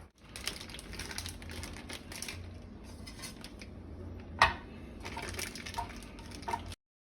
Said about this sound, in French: on va râper notre fromage